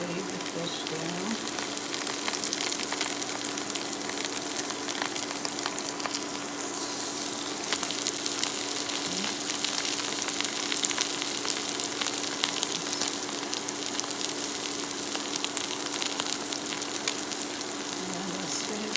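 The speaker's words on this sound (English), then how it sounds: "You want to make sure your skillet is really hot, which I could tell mine is. And just lay the fish down." Blackened Atlantic salmon sizzling in a very hot skillet, a sustained close crackling hiss with scattered pops and a steady background hum, unbroken for the whole stretch.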